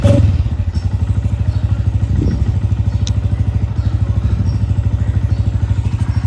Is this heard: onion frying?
no